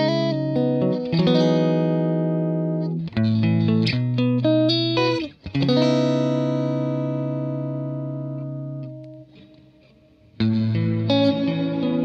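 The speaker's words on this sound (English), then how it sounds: "And here's my clean signal." Clean electric guitar through stereo amps plays sustained chords and ringing single notes with a warm, slightly shimmering tone, loud and alone, with a short pause before the final strum.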